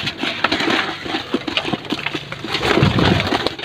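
Racing pigeons eating at close range, a dense patter of quick pecking taps and clicks on feed with soft cooing and fluttering, irregular and busy throughout, growing fuller near the end.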